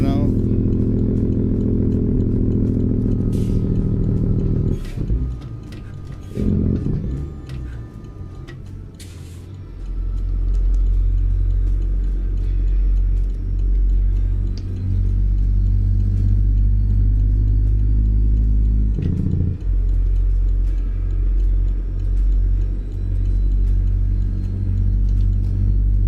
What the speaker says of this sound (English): I do love the sound of the engine.